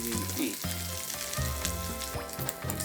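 Pancake batter sizzling and frying in a pan over low heat, a steady close crackle with faint clatter layered on top.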